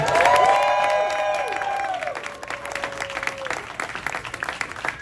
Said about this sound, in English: one huge round of applause for all of this amazing talent here.